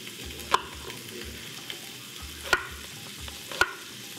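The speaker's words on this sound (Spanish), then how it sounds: "mientras estoy con la cebolla y dorando un poco lo que es el chorizo parrillero" Sliced onion and chorizo parrillero browning in a pan with a steady low sizzle, broken by three sharp knocks of a utensil against the pan.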